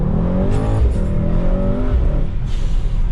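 A Mercedes-AMG GT63 S with a 640 hp engine accelerates hard in Sport Plus with manual shifting, a loud close rising engine roar with audible gear changes, heard from inside the car.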